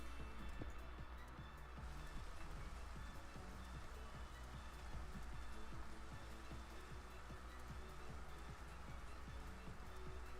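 Steady rain in the video game Minecraft patters continuously with a dense hiss and scattered droplet hits, constant in level with no one speaking.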